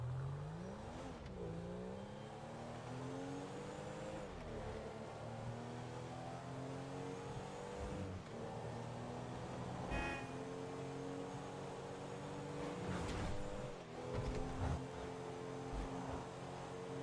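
A car drives in GTA 5 with a steady engine drone that rises and falls through repeated gear changes and revs, loud and close throughout with no talking.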